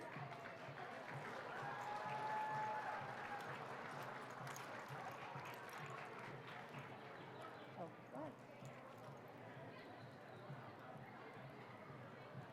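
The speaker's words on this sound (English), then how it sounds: "Let's give a big round of applause to our first contestant." A large crowd applauds the first public speaking contestant at the Gathering of Nations Pow Wow. The clapping is loudest at the start and thins out as a voice talks over it.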